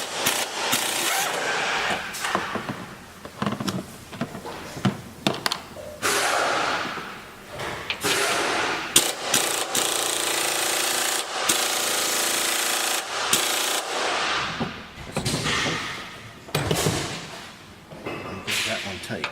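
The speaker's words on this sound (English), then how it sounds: "Taking the top strut bolts out." An impact tool or power wrench removing the top strut bolts on a Honda Ridgeline during a 1.5-inch leveling kit install, with several loud, close, sustained buzzing bursts separated by brief pauses.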